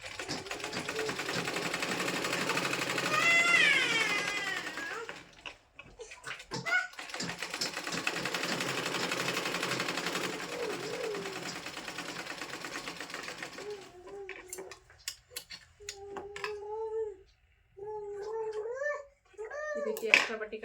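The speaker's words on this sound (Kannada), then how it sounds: "ಈ ಸೈಡಿಗೆ ಒಂದು ಹೊಲಿಗೆ ಹಾಕೊಂಡ್ಬಿಡ್ಬೇಕ್ರಿ" A sewing machine stitches a seam along the side of cloth, a loud continuous whirring run in two long bursts, followed by someone talking with brief pauses.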